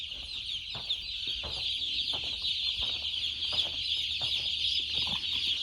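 Huge flock of baby chickens in a chicken house, a dense continuous chorus of high peeping and chirping with scattered clucks and soft shuffling, steady and close.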